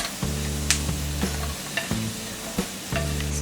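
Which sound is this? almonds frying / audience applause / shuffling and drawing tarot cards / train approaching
almonds frying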